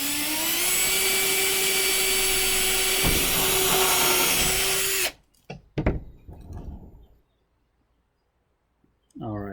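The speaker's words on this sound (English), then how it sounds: "And then you can go ahead and drill that in." Power drill boring into PVC pipe for a homemade chicken feeder, a loud steady whine running for about five seconds before stopping abruptly, followed by a few clicks and handling knocks, then near silence.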